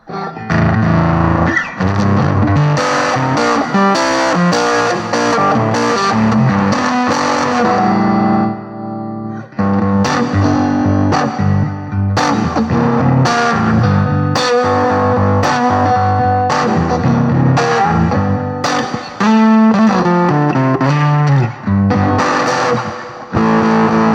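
Loud, gritty electric guitar riffing through a Danelectro Daddy-O overdrive pedal, thick and saturated, played continuously with short pauses between phrases.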